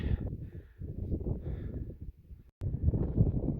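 Strong wind buffeting the microphone on a backpacking trail in Glacier National Park, with heavy low rumbling gusts that drop out briefly before returning just as loud.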